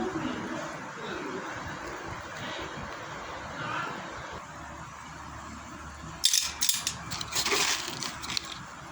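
Food being crumbled into small pieces by hand for a pet named Leo, soft crushing rustles at first, then a burst of louder crackling crunches near the end, close and alone.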